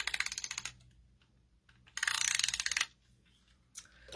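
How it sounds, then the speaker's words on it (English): Two quick bursts of a tape runner dispensing adhesive onto paper, each a fast ratcheting clicky rattle, close and moderately loud, separated by a quiet pause. "So I'm just going to run some tape runner"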